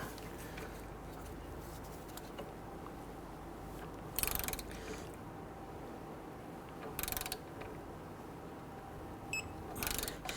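Ratchet wrench holding a spinning bolt head while the front driver's side CV axle is torqued on a 2008–2013 Infiniti G37, with a few brief, sharp clicking bursts over a steady low background hum.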